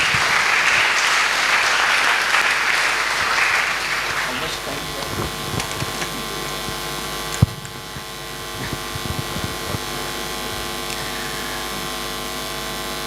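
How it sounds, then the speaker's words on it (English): Audience applause at an Engineer's Day celebration in Mumbai welcoming a keynote speaker, a dense steady clapping roar for about four seconds that fades into scattered claps, room hum and murmuring. "Please welcome him with applause"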